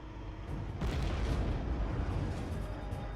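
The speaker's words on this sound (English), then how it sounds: "the Bradley has to stop before it can fire these high-explosive, shape-charged warheads" A Bradley fighting vehicle fires a TOW anti-tank missile, giving a sharp launch burst followed by a sustained, fairly faint roaring rumble that carries on to the end.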